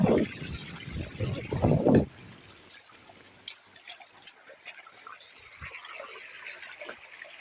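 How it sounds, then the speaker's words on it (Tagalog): Water trickles and splashes faintly as people wade across a river on foot on a rural trip; talk fills the first two seconds, then quiet splashing and footfalls continue alone. "Yan yung pagtawid na ng ilog."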